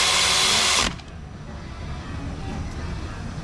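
A power tool such as a drill or impact driver runs a bolt down on a 3.5L engine during lower intake and cylinder head work. It gives one loud, steady burst that cuts off abruptly, leaving a quieter shop background.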